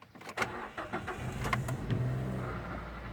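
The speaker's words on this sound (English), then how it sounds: "Okay, let's just start it up. Foot on the clutch. Twist the key." A manual car started with a turn of the key, a brief cranking burst followed by the engine catching and settling into a steady close idle hum.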